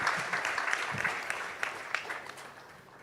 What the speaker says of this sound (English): Can I have a round of applause for an excellent,